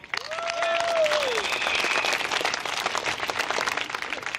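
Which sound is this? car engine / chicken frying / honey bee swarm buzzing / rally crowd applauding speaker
rally crowd applauding speaker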